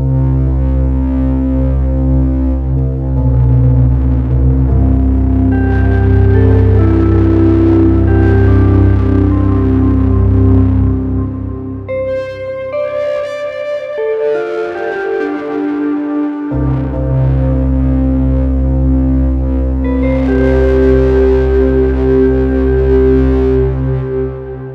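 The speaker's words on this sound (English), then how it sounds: "I've got a Reverb X from Ranger Effects, which is another reverb pedal, but it adds a lot of like grunt and distortion as well" A cheap keyboard synth plays through a Ranger Effects Reverb X pedal, which adds gritty distortion and a long reverb tail. Loud sustained tones hold and shift, with a short break before the chords swell back in.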